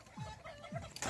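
A neighbor's chicken clucks twice in short, quiet calls at a backyard birthday gathering, with a brief louder rustle at the end.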